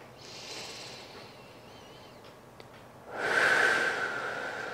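Deep yoga breathing during a gentle flexibility session: a quiet hiss of breath, then a stronger, longer airy exhale that fades slowly, close to the microphone with no talking.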